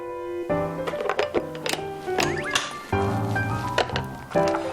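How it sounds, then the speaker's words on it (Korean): Breakfast simmering and bubbling in a home kitchen, with a run of wet squishy pops and drips plus clinks of cookware, fairly close and steady over about five seconds with no talk. "보글보글 맛있는 소리와 함께 시작된 그녀의 아침"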